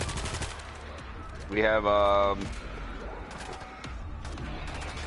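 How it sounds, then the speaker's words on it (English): A .50 caliber turret in a zombie survival shooter fires a rapid, heavy burst of gunfire, loud and close, amid other scattered game noise, with a player talking over it. "Putting down the 50 cal turret."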